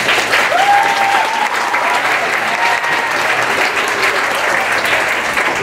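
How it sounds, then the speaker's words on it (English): Steady, enthusiastic applause rolls through a concert hall audience at a children's choir concert, a dense, even sheet of clapping from start to finish. "So can we give Julia a round of applause?"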